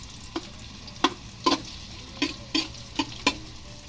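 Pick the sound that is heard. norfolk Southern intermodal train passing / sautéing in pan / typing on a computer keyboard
sautéing in pan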